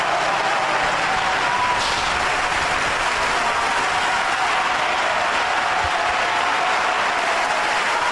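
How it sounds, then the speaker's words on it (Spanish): A studio audience at a television talk show breaks into sustained applause, a dense even roar of many hands clapping that holds at a steady level from start to finish. "Me vengo arriba con los aplausos"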